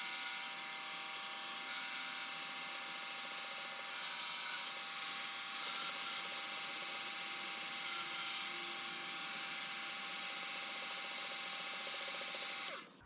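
A machine trimming the rear mounting point of a Tamiya Mini 4WD chassis drones as a loud, steady high-pitched whine for about twelve seconds, then cuts off abruptly.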